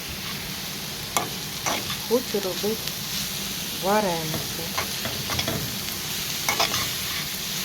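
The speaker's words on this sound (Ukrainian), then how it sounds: "смажу капусту" Cabbage sizzles steadily in a hot pan with occasional scraping stirs, while a person speaks briefly over the frying nearby.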